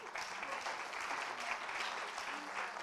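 Steady applause from an audience at a media innovation awards ceremony, a dense, even wash of clapping held at a moderate distance throughout.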